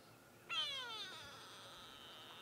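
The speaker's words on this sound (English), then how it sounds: "you can hear the shout of the grey go-away bird" Grey go-away bird calling at sunrise in the Sabi Sand safari reserve, a single loud nasal, wavering cry that starts abruptly, then trails off into a fading drawn-out tone over quiet background.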